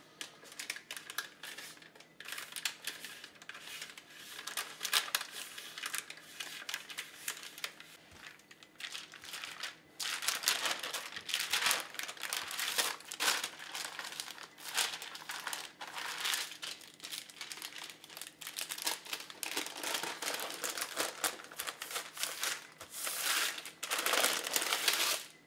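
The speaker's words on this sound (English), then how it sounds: "You can use the baking paper to help you have a tight roll." Baking paper crinkles and rustles while a log of spiral cookie dough is rolled up tightly inside it, a continuous close crackling that swells louder in bursts through the second half, with no voices.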